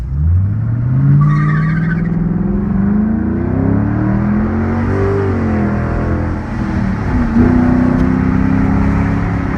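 An Acura RSX driving at speed, around 110, its engine droning loud and close with pitch rising and falling as it accelerates and shifts, under steady road and wind roar throughout.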